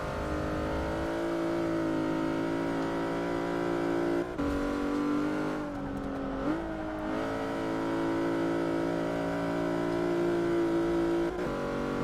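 Race car engine in Forza Motorsport 6, a Plymouth Prowler build, holding a loud sustained drone with shifting pitch, a sharp dip and rise midway, and no voices.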